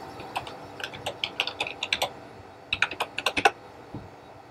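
Keys on a computer keyboard are tapped to enter a password, two quick bursts of crisp, close clicks with a short pause between, and no talking.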